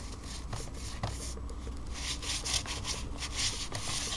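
A paintbrush scrubs steadily against a plastic replica gun being aged and painted in camouflage, giving continuous scratchy rubbing strokes with a regular back-and-forth rhythm, close and moderately loud, with no talking.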